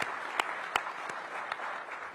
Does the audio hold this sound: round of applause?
yes